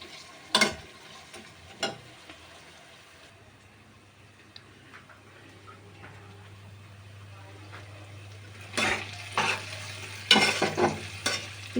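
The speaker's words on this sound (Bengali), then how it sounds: "এখন একটু ভেজে নেব হালকা বাদামি করে" Onions fry in a pan with whole spices such as star anise and mace while cooking a duck curry, a soft low sizzle with occasional louder stirring clatters and scrapes.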